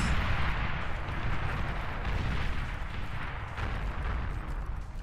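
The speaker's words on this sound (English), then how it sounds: "So many explosions." Dense, continuous rumbling blasts and crackling booms from the strategy game Beyond All Reason, loud and sustained, like a barrage of explosions with no pauses.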